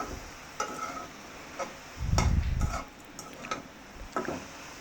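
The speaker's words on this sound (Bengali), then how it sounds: "এখন আর একটু নেড়ে চেড়ে আমি হালকা ভেজে নেব।" Two bay leaves fry lightly in a pan under quiet sizzling, with scattered ticks and clicks of a utensil and a louder burst of stirring in the middle.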